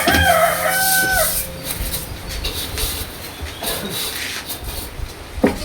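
A rooster crows loud and close at the start, with harmonic calls in the first second or so, then fainter outdoor background noise follows.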